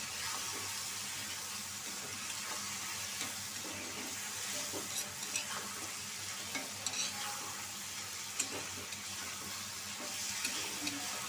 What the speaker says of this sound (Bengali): এখন আমি 2 থেকে 3 মিনিট কষায় নিব।